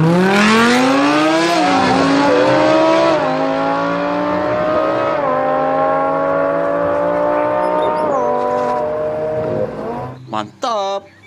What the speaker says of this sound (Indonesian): Wih, mobil balap Lamborghini.